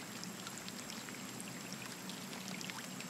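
Water rising in Scanner Sombre, a faint continuous pouring, trickling rush with scattered droplet splashes, steady and low in level throughout.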